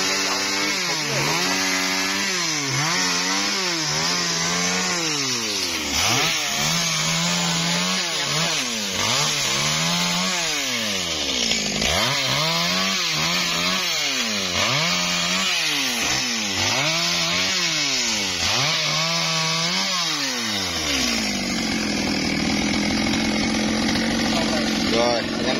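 A G4500 chainsaw cuts into a huge dầu tree, its engine revving hard and easing off again and again in a choppy rhythm, then settling into a steadier high drone near the end.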